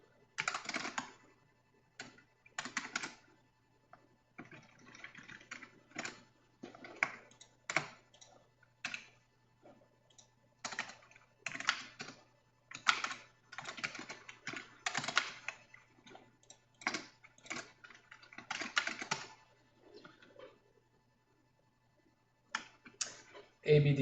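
Typing on an Ergo Pro keyboard with Alps-style keys makes quiet, close clacking in irregular bursts with short pauses, and a faint low hum sits underneath.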